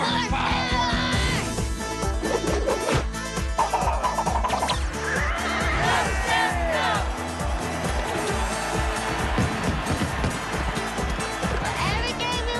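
A horse neighs during a CFL West Final television broadcast between Edmonton and Calgary. It is a brief, high whinny buried under loud talking, music and crowd noise.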